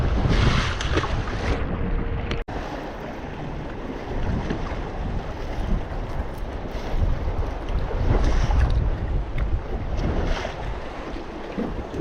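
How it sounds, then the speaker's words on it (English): Heavy wind buffets the microphone on a lake while bass fishing from a boat, a continuous roaring rumble with gusting surges and water noise, and no voices. "this wind is brutal right here"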